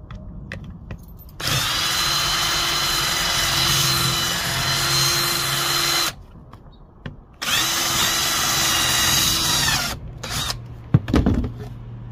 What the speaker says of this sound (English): you're gonna wanna drill out the plastic rivets.